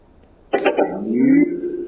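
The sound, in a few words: portable speaker power-on sound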